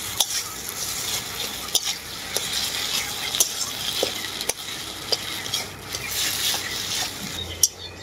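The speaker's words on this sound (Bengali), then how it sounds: "খুব ভালো করে একসাথে মিক্স করে নেব মশলাটাকে।" A spice mixture of black pepper, turmeric, chili powder and chaat masala is stirred in a pan, giving continuous scraping and soft sizzling with sharp spatula clicks against the metal throughout, close and alone.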